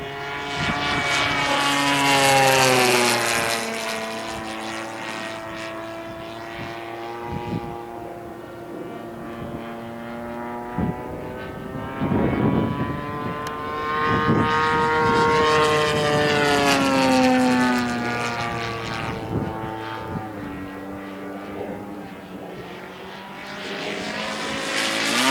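A radio-controlled Bates Hellcat scale model airplane flies overhead, its propeller engine droning steadily. The pitch rises and falls as it makes passes, growing loud and fading across the sky, with no voices.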